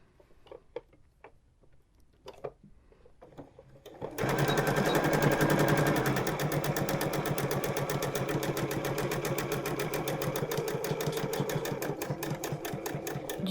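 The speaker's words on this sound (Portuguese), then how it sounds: "E vou costurar minha aba." A sewing machine stitching the flap of a patchwork wallet. A few soft clicks and taps come first, then the motor starts and runs in a loud, rapid, steady needle chatter that carries on to the end.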